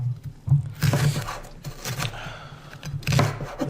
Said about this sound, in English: I'm going to cut the leeks.